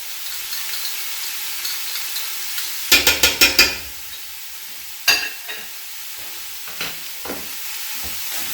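A spoon stirs butternut squash soup with cinnamon stick, salt, pepper, ground ginger and vegetable base in a pot, giving a few quick clusters of scraping, clinking strokes over a low sizzle, with gaps between bursts.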